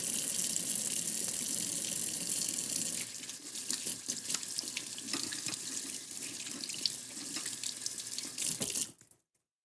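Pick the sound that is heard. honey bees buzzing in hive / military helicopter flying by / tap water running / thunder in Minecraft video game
tap water running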